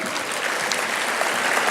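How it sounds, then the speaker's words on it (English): Applause for award recipients at an industry awards ceremony during a national conference, a steady, dense clapping from a large crowd filling the whole short stretch. "one more round of applause for the recipients of the awards tonight."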